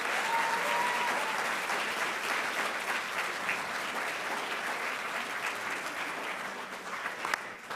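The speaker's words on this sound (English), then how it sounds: "Let's give him another round of applause." At a school board meeting, an audience claps in a sustained, even round of applause that holds steady, then slowly thins toward the end.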